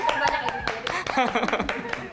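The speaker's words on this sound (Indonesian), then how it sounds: "Tepuk tangan dulu dong." A few scattered hand claps from a small audience rise up under a voice chatting on a talk show, short sharp pats mixed in with the speech rather than sustained applause.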